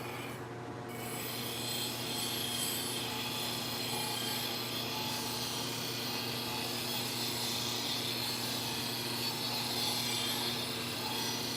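A wood lathe spins a spalted pine bowl as a tool cuts a bevel on its bottom. It gives a continuous rough rasping and rubbing over a steady motor hum, close, even and without talk.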